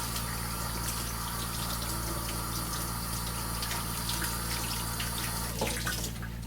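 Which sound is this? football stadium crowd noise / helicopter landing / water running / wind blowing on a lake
water running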